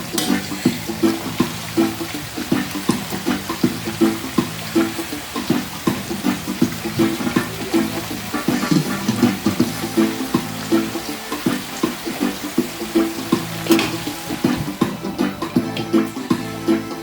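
Carrots and turnips are tipped into a hot pan and stirred. Repeated scrapes and clatters of the utensil beat steadily over a constant, close sizzle.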